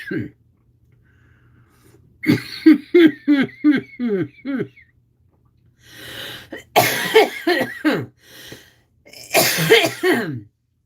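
Someone coughs in harsh, repeated fits, each a quick string of bursts, separated by quiet pauses.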